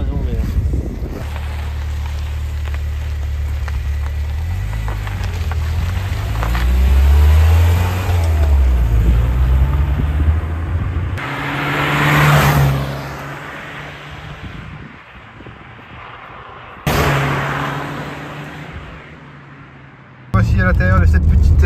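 Engine of a BMW E30 running inside the small car, with a low steady drone that swells as it revs around the middle, under near-continuous talk and some wind noise.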